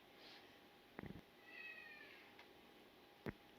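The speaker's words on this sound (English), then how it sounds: "Sorry about my cat." A house cat meows twice in a quiet indoor room, a short nearby call and then a second brief meow, with faint room noise and no talking.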